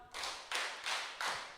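A group in a large hall claps hands in unison in a quick, even series of sharp reverberant claps, each ringing out briefly before the next, fairly faint and with no talking.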